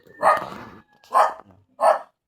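A guard dog barks three times at close range, loud, separated by short pauses, with no talk.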